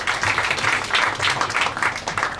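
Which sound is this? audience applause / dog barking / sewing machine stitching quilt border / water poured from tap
audience applause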